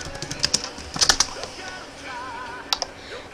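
Quick clusters of keyboard keystrokes tapping in short bursts while a profile is typed, fairly close and clear, with brief pauses between runs and a faint electronic tone in the background.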